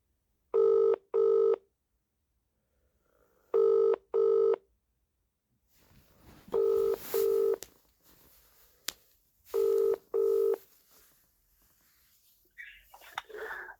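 A telephone rings in repeated double bursts, four pairs of rings separated by quiet pauses, with faint room noise between them.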